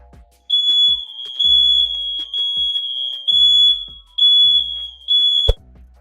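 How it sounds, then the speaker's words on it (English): A smoke alarm set off by smoke from hair product shrieks in a loud, steady high beep close by, with clattering knocks and thumps underneath and an abrupt cutoff near the end. "I literally set off the fire alarm in the next clip"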